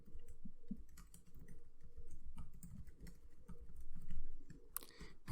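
Close, steady typing on a computer keyboard while writing sentences into Python code, with busy irregular key clicks and soft thumps that ends in a sharper clack.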